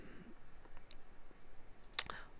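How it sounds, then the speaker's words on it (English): A single sharp computer mouse click near the end of a quiet stretch, with a faint softer tap earlier, heard alone at close range. "So I can click continue."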